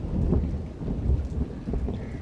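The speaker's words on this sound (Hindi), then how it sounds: "इतने ज्यादा खतरनाक बादल भी गरज रहे और बारिश भी हो रही है" Thunder rumbling low and steady with rain falling throughout during a stormy morning, a continuous wash of rainfall over deep rolling rumbles.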